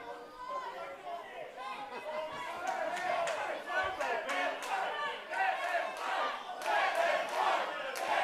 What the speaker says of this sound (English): The crowd want them to fight!